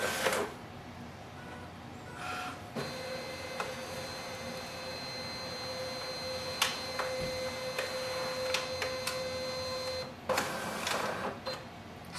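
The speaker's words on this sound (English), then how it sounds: "Scanning is done." A Brother MFC-L2730dw printer scanning a page: a steady mechanical hum with a sustained whine, soft ticks and clicks, and brief louder clunks at the start and end, close by without talk.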